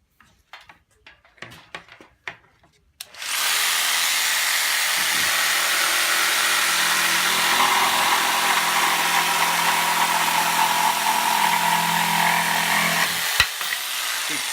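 Bosch JS572EB jigsaw cutting wood with the chip blower off: a few soft knocks, then a loud, steady, close motor whine with a buzzing blade that runs unbroken for about ten seconds before a sharp click near the end.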